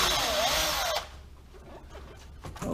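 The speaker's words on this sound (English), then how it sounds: "I'm going to drill a hole through here" A power drill whines loudly for about a second as it bores through material, then stops, leaving quiet handling noises.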